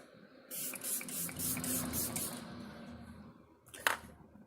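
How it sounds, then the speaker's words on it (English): Hairspray is sprayed onto freshly brushed bangs in a run of short hissing bursts lasting a few seconds, close and fairly quiet, followed by a brief sharper sound. "put some hairspray in them"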